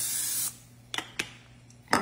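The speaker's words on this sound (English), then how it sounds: "You wanna definitely use some pan spray because you don't want it to stick." Non-stick pan spray is sprayed into a cake pan in a long hissing burst, followed by three quick short puffs, close and fairly quiet.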